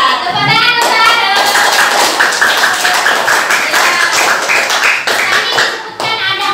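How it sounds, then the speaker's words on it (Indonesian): A primary school class applauds a pupil named Ari. The hand clapping is loud, quick and dense and runs for several seconds, with a brief pause partway through and no talk over it. "Tepuk tangan untuk Ari."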